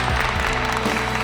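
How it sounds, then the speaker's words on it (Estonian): Audience applause at a young pastry-chef and confectioner competition, a dense, steady wash of clapping filling the short moment with no voices standing out. "Teeme suure aplausi."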